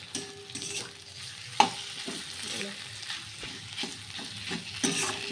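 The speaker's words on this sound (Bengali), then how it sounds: "ভালো করে ভেজে নেব পেঁয়াজ রসুনটা দিয়ে" Onion and garlic frying in a pan, a close crackling sizzle with repeated stirring scrapes and one sharper knock of a utensil, fairly quiet overall.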